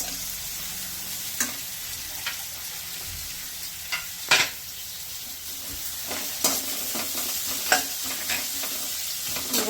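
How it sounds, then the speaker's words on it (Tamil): Onion and garlic sautéing in a pan with a little salt, a continuous moderate sizzle broken by several sharp scrapes and clacks of a spoon stirring, close-up and without voices. "வெங்காயமும் பூண்டு வதங்கிட்டு இருக்கும்போது"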